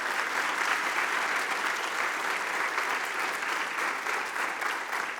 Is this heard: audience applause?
yes